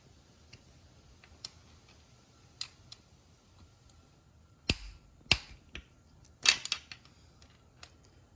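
Bolts of 5mm on the timing chain tensioner of a Yamaha R6 motorcycle are broken loose with a tool, heard as faint ticks and then a few sharp, close metallic cracks and clicks in a quiet room.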